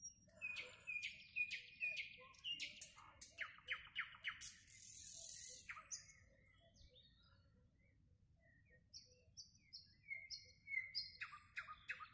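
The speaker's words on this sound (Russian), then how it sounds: "Соловушка поет." A nightingale sings on a late May evening, delivering rapid varied phrases of whistles, chirps and trills in close, clear bursts over a faint low background rumble, with a short pause midway.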